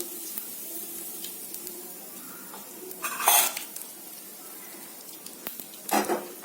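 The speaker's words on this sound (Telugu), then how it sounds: "జీలకర్రతో పాటు మనం ఇంగువ కూడా వేసుకోవాలి." Cumin seeds and asafoetida hit hot oil for a tempering after mustard seeds. A soft continuous sizzle breaks into two brief, bright crackling bursts, close up, with faint utensil clinks and no voices.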